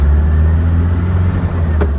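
A 1955 Volkswagen Beetle with a 1641cc engine pulling away in first gear, its steady low engine drone loud and close throughout, with no talking.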